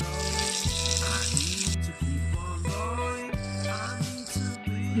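Alfaham chicken rubbed with masala sizzles in a pan as a continuous frying hiss, heard beneath louder tonal background music.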